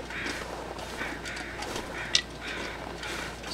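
Birds in The Long Dark call in a string of hoarse, quack-like bursts at a fairly regular pace, faint and distant over a quiet windy backdrop, with a single sharp click midway.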